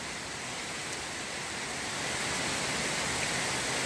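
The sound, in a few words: heavy first winter rain pouring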